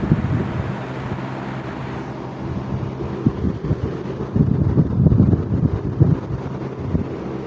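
A Wizard box fan runs at its high speed setting with a steady, strong airflow whoosh and low motor rumble, loud and close, swelling slightly toward the end with no talking.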